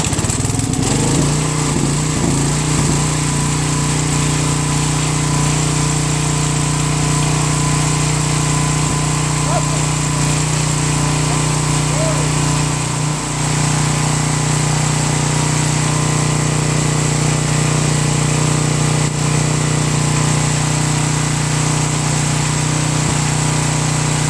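Generac 5000 portable generator engine running steadily after a choke start, a loud, close, continuous mechanical drone with a constant hum and no pauses.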